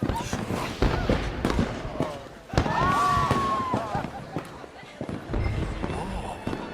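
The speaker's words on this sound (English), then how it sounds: "Let me enjoy the fireworks." Fireworks at a party in Red Dead Redemption 2: repeated bangs and crackling bursts going off throughout, fairly loud, with voices and party noise mixed underneath.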